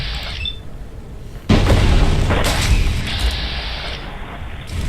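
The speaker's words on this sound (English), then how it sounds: "Missile turret." A missile turret fires in the video game Fallout London, producing a sudden heavy boom that rolls into a sustained, loud rumbling blast lasting several seconds.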